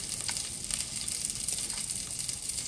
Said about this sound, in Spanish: De la mantequilla voy a agregar aproximadamente 1 cucharada. Voy a dejar que se derrita un poco.